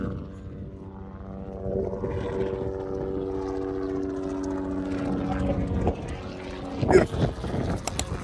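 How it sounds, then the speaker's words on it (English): A helicopter drones overhead in Kenya, its engine and rotor hum growing steadily louder, while someone talks over it. "There's a helicopter coming right above me."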